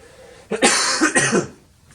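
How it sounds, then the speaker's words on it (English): A single close, loud cough bursts out in two or three rough spasms, then fades into near silence. "cough again"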